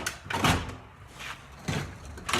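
Drawers in a cluttered garage being opened and shoved shut, several close knocks and scraping slides in irregular bursts, nearby and fairly loud.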